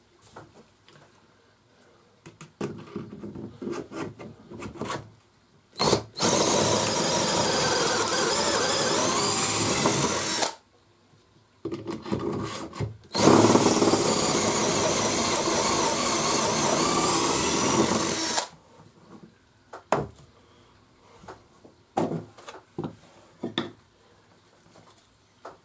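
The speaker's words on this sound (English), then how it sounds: "now I'm going to do a series of pocket holes along this piece of wood" Pocket holes are drilled into a piece of wood using a Katsu portable pocket hole jig: two long, loud drilling bursts of several seconds each, with quieter handling clatter and knocks before, between and after.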